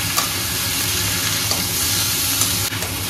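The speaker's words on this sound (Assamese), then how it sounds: "এয়া দুটা আলু দি দিছোঁ আলুখিনি ইয়াৰ লগতে ভাজিম এতিয়া" Pork and potato pieces fry in a pan with a dense, steady sizzle at close range, broken by a few sharp scrapes and clinks of stirring, with no voices.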